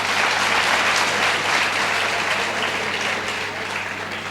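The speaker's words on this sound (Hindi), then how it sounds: "सबसे पहले मैं चाहूँगा कि आप रोहित भैया के लिए जोरदार तालियां बजाएं।" An audience at a felicitation ceremony for top SSC CGLE 2018 results gives loud, sustained applause for Rohit bhaiya, a dense wall of clapping that eases slightly toward the end.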